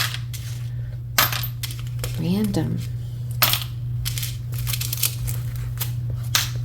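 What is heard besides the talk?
tarot cards being shuffled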